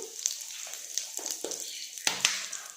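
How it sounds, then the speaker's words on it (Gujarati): Cumin seeds crackle in hot oil while aloo matar is being cooked, with scattered sharp, bright pops and sizzle under a person talking. "જીરું એકદમ સરસ તતડી ગયું છે"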